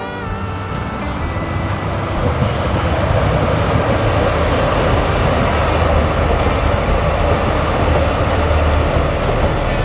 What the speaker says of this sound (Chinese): 这边有火车，大家看。